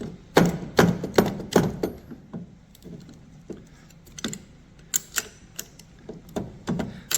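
Screws backed out of a motor coupling, close metallic clicks and rattles in quick clusters with short pauses, sharp ticking taps against a quiet room.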